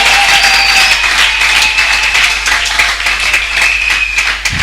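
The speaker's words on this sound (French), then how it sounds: "Est-ce qu'on peut applaudir Jésus?" A crowd at a women's church convention applauds with dense, sustained clapping that stays loud and even throughout, with faint voices mixed into the background.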